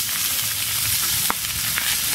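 Food frying in a very hot pan, browning gently, with a dense continuous sizzle and a couple of brief stirring clicks, close and loud with no talking.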